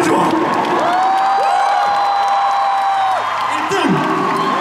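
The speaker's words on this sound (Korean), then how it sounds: "너무 뜨겁게 환영해주시고 박수 쳐주시고 소리 질러주셔서" A crowd at a Phantom Singer 2 gala concert in Daegu cheers, with loud sustained screams and whoops rising and falling over a bed of clapping and crowd noise.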